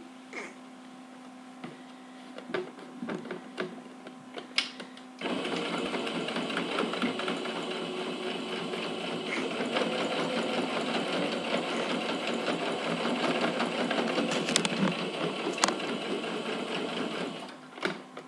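A sewing machine stitches fabric while making a necessaire that turns into a small basket, first with short bursts and then a continuous close mechanical whirring for over ten seconds before it stops.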